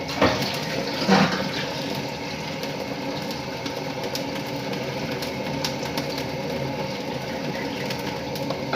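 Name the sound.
water poured into a pot for soaking goat trotters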